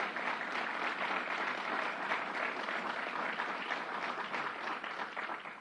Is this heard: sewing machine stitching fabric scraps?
no